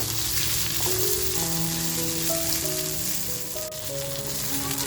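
Masala with tomato stir-fried in a pan for a rustic mutton curry gives a steady, close sizzle, with faint tonal notes drifting in the background.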